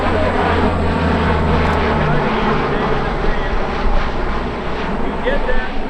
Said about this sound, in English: Then you get a shot of the airplane flying directly overhead.